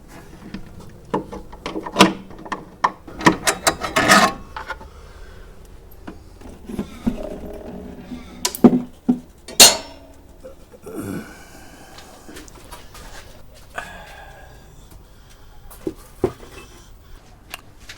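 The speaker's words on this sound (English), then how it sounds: "I'll just get some pliers onto it." Pliers working an odd-sized nut on an old STC model 530 valve radio, with scattered metallic clicks, scrapes and clunks at close range, separated by quiet gaps.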